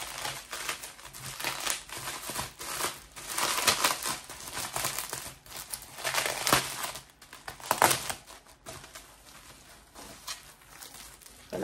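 Packing paper crinkles and rustles continuously as it is pulled off a wrapped mug, with irregular crackling bursts, close and fairly loud.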